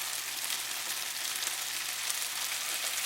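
Beef browning in a hot pan for Chinese spicy beef with tofu sizzles in a steady, dense, close hiss with no pauses and no voices.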